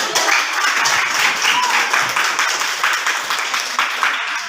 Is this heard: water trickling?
no